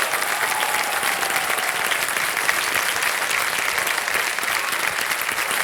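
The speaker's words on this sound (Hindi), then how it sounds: "तालियां बज जाए इनके लिए" Sustained, dense applause from a large studio audience on the set of the quiz show Kaun Banega Crorepati, loud and steady throughout with no break and no talking over it.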